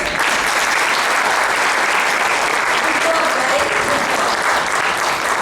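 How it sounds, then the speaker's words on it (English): Loud, continuous audience applause for the author at the close of a book launch event, a thick steady wash of many clapping hands filling the room without pause. "Let us give applause and heartful appreciation to our author."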